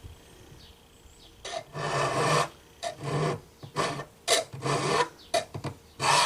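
Hand file rasping along the false edge of a steel karambit knife blade, a series of distinct strokes of varying length, close and fairly loud with short pauses between them.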